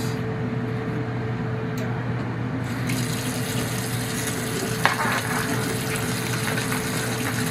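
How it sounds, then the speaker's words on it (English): Tap water runs steadily into a sink while raw ribeye steaks are washed, a constant close splashing rush with a brief knock partway through and no talking. "I'm gonna wash these steaks."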